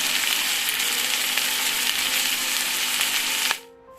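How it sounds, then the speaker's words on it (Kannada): Onions and spices for a home-style junka curry fry in a pan with a dense, even sizzle that runs steadily before cutting off sharply near the end, followed by a faint clink. "ನೋಡಿ ಸ್ನೇಹಿತರೆ, ಒಳ್ಳೆ ಫ್ರೈ ಆಗಿದೆ."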